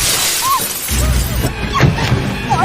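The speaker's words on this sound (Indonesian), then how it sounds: "pria itu langsung memecah kaca mobilnya untuk menghabisi Ning." Car window glass smashed in a Thai horror film, with a sharp shattering crash and scattered breaking debris over a dense, loud background of film sound and music.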